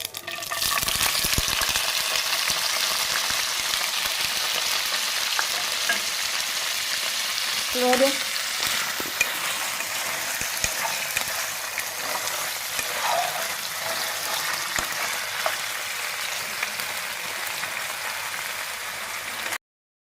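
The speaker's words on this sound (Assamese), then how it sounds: "এতিয়া পনীৰখিনি ফ্ৰাই কৰিম" Cubes of paneer frying in a pan over a gas burner, giving a steady, close sizzle that runs without break for about twenty seconds, with occasional faint stirring sounds.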